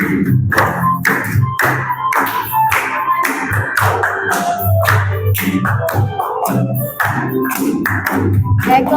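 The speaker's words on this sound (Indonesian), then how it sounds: "Oke, tepuk tangan semuanya." An audience claps steadily through the whole stretch, a loud and fairly close round of applause with irregular hand strikes.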